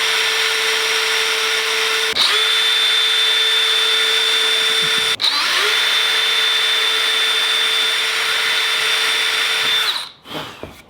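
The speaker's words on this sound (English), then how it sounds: "I'm just going to simply drill." A power drill bores into a wooden board in a garage, a loud, steady high whine running for several seconds at a time, broken by brief stops and restarts before it winds down at the end.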